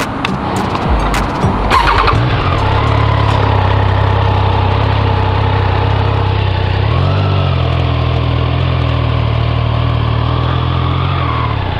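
A Triumph Tiger 660 motorcycle engine starts up with a few clicks and then settles into a loud, steady, close idle, with a brief rise in pitch partway through.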